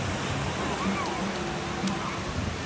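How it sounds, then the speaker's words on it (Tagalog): Large ocean waves roll and break on a beach during a family outing, a continuous loud wash of surf close by with faint voices of people in the background. "Oh yeah, big waves."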